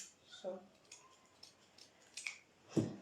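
Scissors trimming fabric for a draped bubu, a few quiet snips spread out, the last one sharper and louder, with faint background sound.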